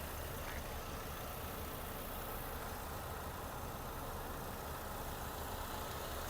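Steady, even engine idle of a 2007 Volkswagen Golf Plus with a 1.6 MPI petrol engine, a continuous low rumble with no revving, heard without any talking.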